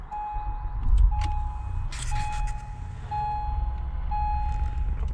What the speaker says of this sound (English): Steering wheel moves.